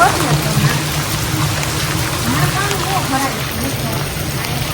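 Steady rain pours down outdoors in a dense, even hiss with a trickling, splashing texture that stays loud and unbroken throughout.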